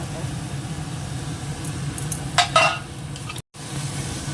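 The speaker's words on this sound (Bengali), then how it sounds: "এই মশলাটাও খুব সুন্দর করে কষানো হয়ে গেছে" Garlic and ginger paste frying with browned onions and meat in a pot: a soft continuous sizzle under a low hum, with a brief louder burst of stirring midway and a short dropout near the end.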